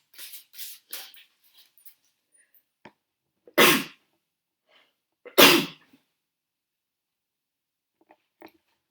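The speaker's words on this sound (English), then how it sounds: "I'm going to sneeze." Two loud, sharp sneezes a couple of seconds apart, close by, with a few faint rustles and small sounds before and after.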